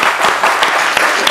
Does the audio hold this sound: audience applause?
yes